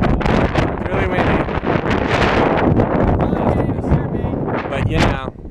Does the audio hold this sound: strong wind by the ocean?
yes